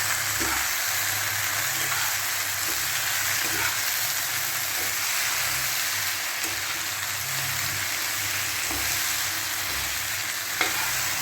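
Poppy seed paste with potatoes and onions, ground with green chili and tempered with dried chili, sizzles steadily in a pan while a spatula stirs with faint regular scrapes.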